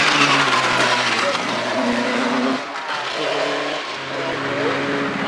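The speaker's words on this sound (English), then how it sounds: "Here's another of the growing number of Formula 3 Dallara Vauxhall runs in this class." A Formula 3 Dallara Vauxhall single-seater attacks the Shelsley Walsh hillclimb during the 2007 British Hillclimb Championship, its engine screaming loud and close with shifting pitch and a brief dip midway.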